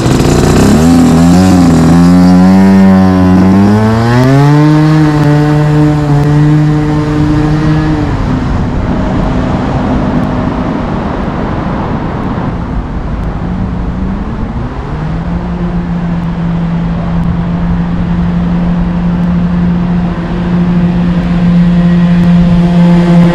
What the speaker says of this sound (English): how loud is it if we just put the decibel meter on the side of the road and ride past it